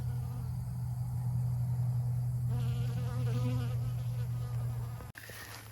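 Bees buzz steadily around lettuce flowers gone to seed in a subtropical permaculture food forest in Queensland, a close, continuous insect drone with a shifting pitch and no talk.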